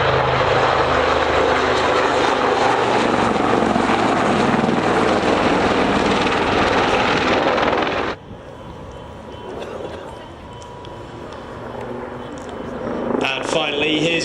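Display aircraft speed past at 120 knots in a high-speed crossing at the Cotswold Airshow 2010, a loud sustained roar that cuts off abruptly after about eight seconds, leaving a quieter background with voices.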